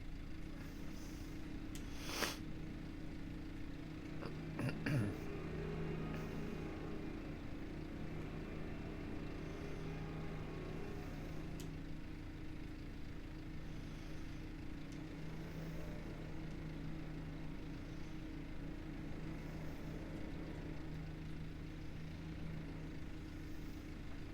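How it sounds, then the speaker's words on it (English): A farm vehicle engine in Farming Simulator 25 drones at a steady, even pitch throughout, with a couple of brief clicks and clunks near the start. "We'll start the engine"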